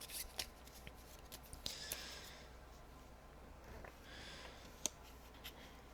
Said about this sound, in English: return the cards to the AI deck and reshuffle